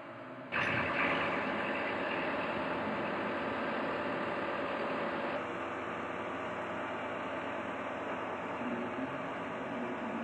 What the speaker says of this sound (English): Next, the loader returns to the roundhouse to retrieve the drive wheels.